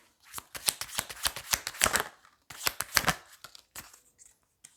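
Tarot cards are shuffled close up in two quick bursts of rapid riffling flutter, with a pause between and a few light taps after.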